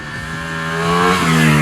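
A 2021 Ducati Streetfighter V4 S engine revs hard during a wheelie and climbs in pitch, a loud, close, rising roar over under two seconds.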